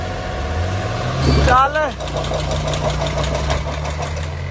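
A tractor engine labours in a tug of war against a Mahindra Thar, a loud rumbling drone with a rising whine of revs and knocking beats, while people shout and talk around it.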